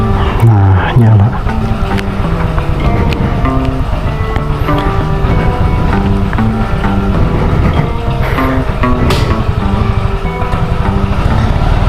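A Vespa Sprint 150 scooter, a 2015 model, idling after starting, its loud steady engine drone running continuously and close throughout.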